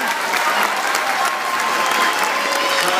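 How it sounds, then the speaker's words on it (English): An audience at a London Zoo animal show applauds a bird, loud continuous clapping from a crowd throughout, with faint voices underneath. "give him a round of applause, everybody"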